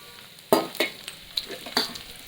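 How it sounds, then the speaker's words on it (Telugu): Radish pieces fry in hot oil while a spoon stirs them, giving a handful of short, separate scraping and sizzling bursts over a faint background hiss. "అవి కూడా బాగా ఫ్రై అయ్యేలాగా తిప్పాలి."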